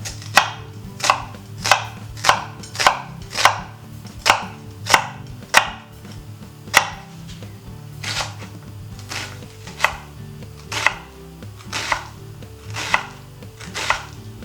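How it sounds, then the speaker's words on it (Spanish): An onion chopped with a knife on a board, a rapid run of crisp, evenly spaced chops, then a brief pause and a second, slightly looser series of knocks, close and clear with no voices. "Ahora picaremos la cebolla"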